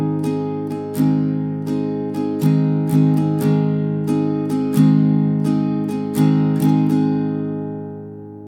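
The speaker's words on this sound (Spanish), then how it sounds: "Ahora vamos con el rasgueo de la primera estrofa" Slow strumming on a requinto guitar, steady down and up strokes in a repeating pattern with chords ringing between strums, clear and close with no voices.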